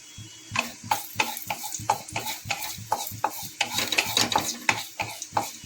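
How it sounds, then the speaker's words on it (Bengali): Black cumin seeds and dry red chillies fry as a tempering in mustard oil in a wok, with a steady run of sharp stirring scrapes and soft sizzle, about a dozen rhythmic strokes, close and fairly loud. "ফোড়নটাকে ভালো করে ভেজে নেবো"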